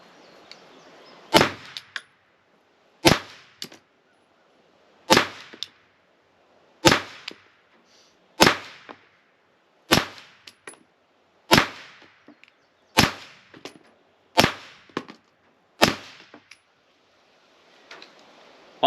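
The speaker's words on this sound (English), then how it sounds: "let's throw the suppressor on here, and let's see how that goes" Ten suppressed shots from a Smith & Wesson M&P 2.0 pistol crack out one by one at a steady pace, each a sharp muffled report with a short trailing echo, separated by near-silence.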